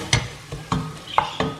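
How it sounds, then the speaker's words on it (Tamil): Turmeric powder sautés in hot oil for mutton kulambu, with soft sizzling underneath and four sharp scraping stirs of a spoon against the pan at a loose, uneven rhythm. "மஞ்சள் பொடியை வந்து நம்ம வந்து இந்த ஆயிலில் நல்லா வதக்கிடலாம்"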